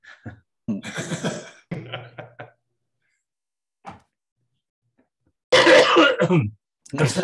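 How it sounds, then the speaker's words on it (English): A few harsh throat-clearing coughs, close and loud, come in bursts separated by short pauses and a brief quiet gap, during a board meeting held over Zoom. "Sorry about the cough."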